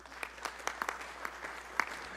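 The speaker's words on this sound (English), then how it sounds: "Give them a round of applause." Light, sparse clapping at a Fresno city council meeting, a few distinct hand claps scattered over a quiet room rather than a full ovation.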